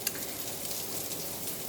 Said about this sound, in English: we've got some onions frying and some sausage cooking